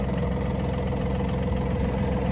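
A Japanese mini tractor engine runs at a steady, loud, low drone while ploughing a garden plot, a constant close chugging with no pauses.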